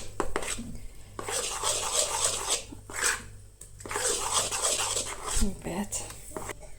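Gram flour batter with a little soda being stirred in a bowl, with repeated scraping and clinking of utensil against dish in bursts, while someone talks in the kitchen.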